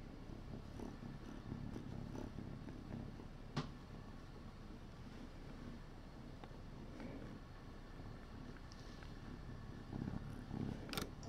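A pet cat purring softly and steadily up close, a low continuous rumble with a few small bumps and rustles over about eleven seconds.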